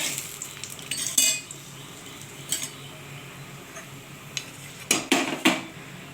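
Crushed lentil dumplings (bori) fry in oil in a pan, with a quiet sizzle broken by sharp metallic scrapes and clanks of a spatula stirring against the pan, and no talking.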